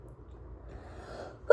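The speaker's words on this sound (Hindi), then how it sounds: "खतरनाक वाला छींकें आना स्टार्ट हो गई है।" A woman with a cold lets out a single sharp sneeze at the very end, a brief loud burst after a stretch of quiet room noise.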